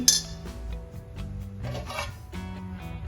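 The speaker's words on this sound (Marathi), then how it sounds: "त्यामध्ये अशा प्रकारचं स्टँड ठेवायचं किंवा प्लेट ठेवायची" A metal stand clinks and scrapes as it is placed in a metal wok of water, a few close rattling knocks with a faint background hum.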